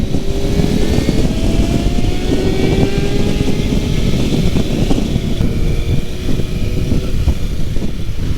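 A 2010 Kawasaki ZX6R sport motorcycle with a Stage 1 tune is heard while riding. Its engine drones loud and close with rising and falling pitch under heavy wind rush, and there may be brief exhaust crackles.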